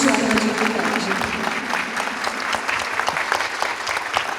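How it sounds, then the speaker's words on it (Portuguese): A crowd at a community women's advocacy event in Artur Nogueira gives the council a loud, close round of applause, with dense clapping throughout, a few sharper individual claps, and voices calling out faintly underneath. "eu quero uma salva de palmas para o nosso conselho"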